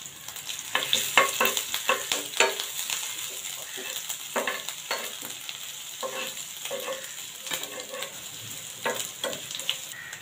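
Grated ginger and garlic fry in hot oil in a pan, giving a steady close sizzle broken by repeated scraping and clinking strokes as a spoon stirs, with no voices.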